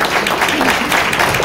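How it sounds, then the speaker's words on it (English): A brief burst of crowd applause at a candidate forum, loud and dense clapping over a short stretch, partly blended with a voice speaking. "You're both in a round of applause."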